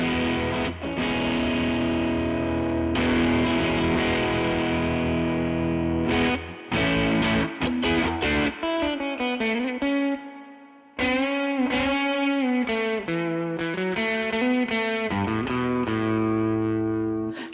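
Electric guitar run through a Benson Stonk Box '60s-style fuzz pedal, filter turned well down and trim near maximum: thick, buzzy sustained chords, then a brief drop-out and a busier run of distorted bends and riffs, loud and alone.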